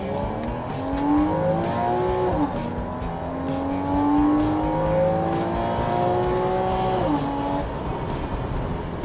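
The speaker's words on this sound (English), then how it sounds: "That flat six sounds so good." A 2014 Porsche Cayman's 275 hp flat-six engine revs loudly with a smooth, rising and falling tone through gear changes, steady and close, with no voices.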